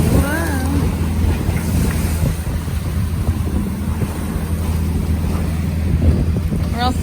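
A boat pitches through big choppy waves where a river current meets the sea off Porto, with steady broadband wind and water rush throughout, a constant near roar, and faint voices underneath.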